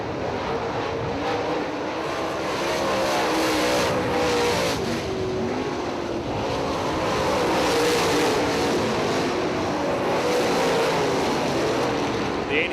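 Late model race cars roar around the Eldora Speedway dirt track in Rossburg, Ohio, during an American Late Model Series race, a loud, continuous engine drone rising and falling as the pack passes through the turns.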